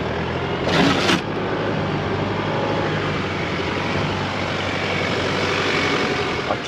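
A Toyota Prado 250 climbs an off-road hill in crawl control. A steady, loud low engine drone and rumble carries on throughout, with a brief whoosh near the start.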